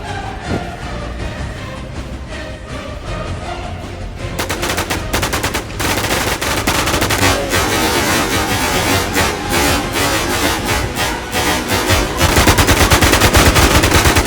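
Sustained automatic gunfire in the video game WarZ during a PvP match, dense rapid bursts running almost continuously and loudly, intensifying after the first few seconds with no clear talk.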